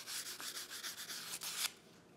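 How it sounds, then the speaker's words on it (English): Fine grit sandpaper rubs lightly over clear-coated wood in steady back-and-forth strokes, a continuous close scratchy hiss that stops near the end, with no voices. "I lightly go over everything with fine grit sandpaper"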